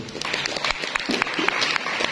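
Scattered clapping rises from a seminar audience, a moderate, fairly close patter of hands that continues briefly without much build.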